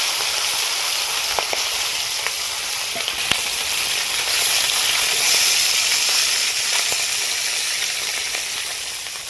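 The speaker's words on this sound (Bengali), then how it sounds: "তো আমি এর মধ্যে দিয়ে দিব সরষের তেল। মাছটা আমি ভেজে নেব।" Singi fish frying in mustard oil in a kadai, a constant dense hiss and sizzle with occasional sharp pops, close and fairly loud, no voices.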